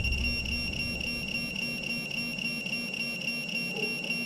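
A continuous high electronic tone from a Minelab Pro-Find 35 or Garrett Pro-Pointer AT pinpointer, pulsing at a steady, rapid rate, with a faint low hum underneath.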